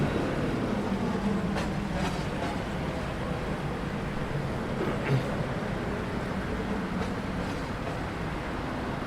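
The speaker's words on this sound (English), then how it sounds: "I love the train." A passing train gives a steady, continuous rumble and clatter that stays fairly constant throughout, with no voices.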